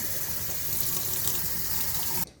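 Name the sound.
tap water washing a cauliflower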